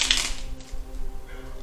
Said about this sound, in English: Plus I like to show people that I do shuffle on camera,